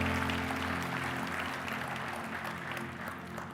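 A church congregation bursts into applause during a sermon, with dense, sustained clapping from many hands that fills the room and slowly tapers off while a low hum from the sound system continues underneath.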